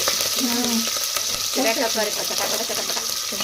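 Four mild green chillies sizzle in an oily pan as they are stirred, a steady frying hiss with scraping strokes while a voice talks over it.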